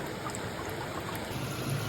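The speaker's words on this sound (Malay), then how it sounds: "Kita rendangkan air dulu, betul-betul mendidih." Water heating to a full rolling boil in a pot on a kitchen stove for pasta, a steady close bubbling and hissing wash with no voices.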